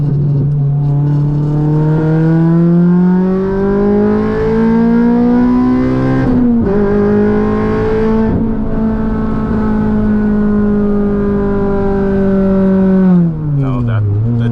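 A K24-swapped Honda FN2 Type R engine screams near the rev limiter from inside the cabin, loud and sustained, pitch climbing slowly, dipping briefly at a gear change, then bouncing off the limiter again.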